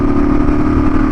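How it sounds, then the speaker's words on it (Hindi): A Royal Enfield motorcycle accelerates hard, producing a loud, close, steady engine drone with a strong low thump throughout a brief burst. "तो बाइक तो एकदम शेर की तरह उठ रही है दबा के"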